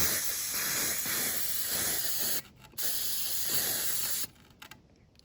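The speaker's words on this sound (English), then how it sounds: "I'm going to spray it with this fog" A can of fog spray hisses in two sustained bursts, each about two seconds long with a short pause between, loud and close, then falls quiet apart from faint handling noise.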